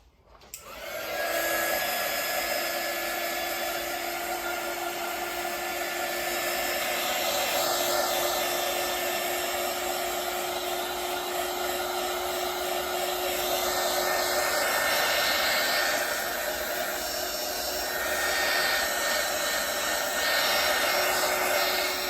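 A heat gun blows on a freshly resin-coated acrylic pour painting, a loud, steady whooshing hum that starts abruptly and holds nearly unchanged for over twenty seconds, close by and with no speech.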